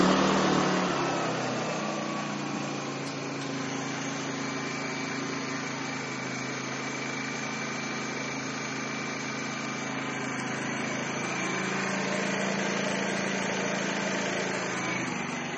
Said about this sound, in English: cutting off the gas supply brings the generator to a stop